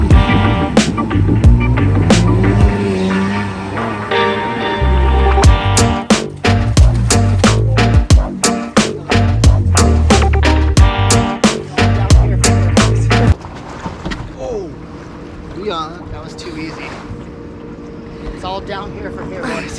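A Wave Blaster personal watercraft engine runs loudly, revving in uneven bursts with sharp cracks, then drops to a steadier, quieter idle for the last several seconds.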